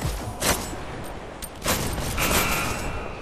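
Shotgun fire in the VR arena shooter Hyper Dash, a few sharp blasts spaced apart over a noisy, busy match background.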